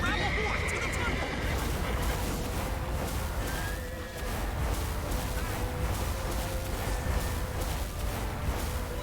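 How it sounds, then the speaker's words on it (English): Horses neigh and hooves clatter amid the action of a Witcher 3 chase through a city toward a temple, while voices shout over a continuous bed of game noise. "Grab a horse to the temple!"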